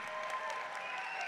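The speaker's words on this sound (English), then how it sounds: "Let's give everyone one more round of applause to show how excited we are." Audience applause at a spring commencement ceremony for high school equivalency and adult education graduates, a steady, dense wash of many hands clapping at moderate distance, continuous and even throughout.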